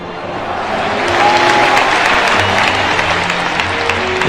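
Crowd applauding in tribute at a football memorial gathering for Chapecoense, dense sustained clapping that swells after the first second and holds steady throughout.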